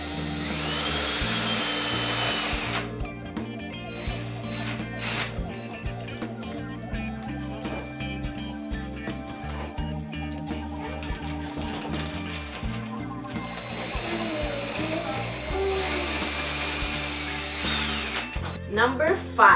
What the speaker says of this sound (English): First, using the cordless drill.